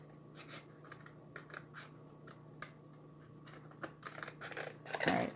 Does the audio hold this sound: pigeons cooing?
no